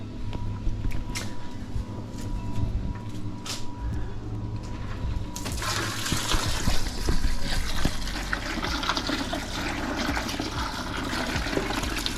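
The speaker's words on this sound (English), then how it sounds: "Might add a bit more water." Water is poured into an ice-and-water bath used to chill yabbies, a loud continuous rushing and splashing that swells midway and keeps churning, with faint clinks at the start.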